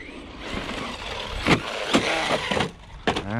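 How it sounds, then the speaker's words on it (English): An ARRMA Mojave 4S RC car runs on an outdoor track, its electric motor whirring and surging in several sharp bursts amid constant background rumble, with no talking. "Power is really controllable on this RC car."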